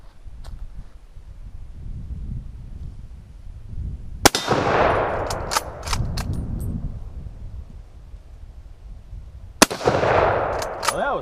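Two sharp, loud Mosin-Nagant rifle shots ring out outdoors about five seconds apart, each followed by a long rolling echo and a few faint metallic clicks, with no talking.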